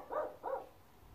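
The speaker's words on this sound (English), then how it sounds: "I'm sorry about the barking." Two quick dog barks in close succession, moderately loud and nearby, followed by quiet.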